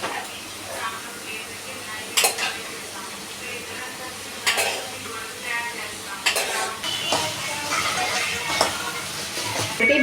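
Cluster beans sizzle steadily in a hot pan for godichikkudu curry, with several sharp scrapes and clinks of a spoon stirring against the metal and a voice talking over the cooking.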